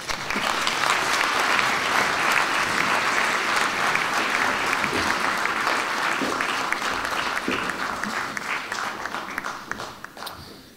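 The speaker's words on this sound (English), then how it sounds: "Clap it up, that's great." Sustained applause from an audience at a Hall of Fame induction ceremony, dense and steady for about ten seconds before tapering slightly at the end.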